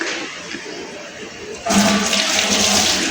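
Tap water runs in a home kitchen sink while hands are rinsed after cooking pakoras, the flow starting abruptly partway through as a steady, fairly loud broadband rush after a quieter stretch.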